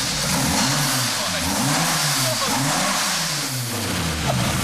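A loud, raw car engine revs up and down repeatedly without a muffler, harsh and blaring, with rhythmic rising and falling pitch and no voices.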